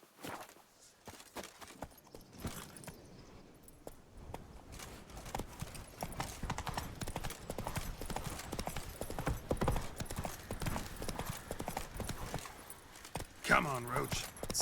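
Horse hooves clip-clopping across ground in The Witcher 3 video game, a fast, steady rhythmic galloping beat with game ambience, and a person talking over it.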